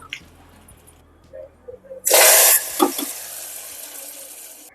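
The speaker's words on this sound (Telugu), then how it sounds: "పప్పులో వేసుకుని మరొక ఐదు నిమిషాలు వేయించుకుంటే వాకాయ పప్పు అనేది రెడీ అవుతుంది" Karonda (vakkaya) dal frying in a pan, a loud burst of sizzling hiss rising suddenly and then settling into a steady crackle, with a few soft clinks before it.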